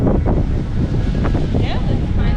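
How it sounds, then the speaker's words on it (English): Strong wind buffets the microphone on a seaside outing in Sardinia, a continuous loud rumbling roar with gusty fluctuations and faint voices underneath. "The wind is so strong."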